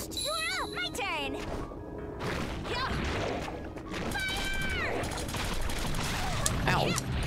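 Gunfire in the 2D action game Gal Guardians, heard as a dense, continuous spray of shots mixed with chiming game effects and music, with some sharp hits and rising tones layered through it.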